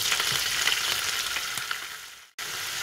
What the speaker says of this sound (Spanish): vamos a sofreír muy bien estos 2 ajíes